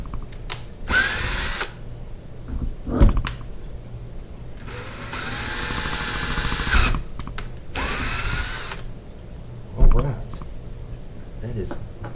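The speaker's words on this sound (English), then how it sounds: "we're going to mark our holes with our drill" Power drill boring holes in a motorcycle luggage case for a DIY build, several short loud whirring bursts of a few seconds each, close up, with someone talking between them.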